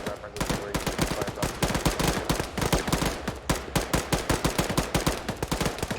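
Rapid, sustained gunfire from a military video game battle, dense bursts of automatic fire overlapping with single shots in a steady, relentless rhythm, loud and close throughout with no talking.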